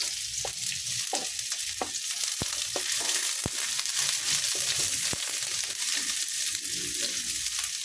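Garlic and onion sauté in a hot pan for mung bean soup, a loud, continuous frying sizzle punctuated by sharp utensil clacks and stirring scrapes, close up with no talking.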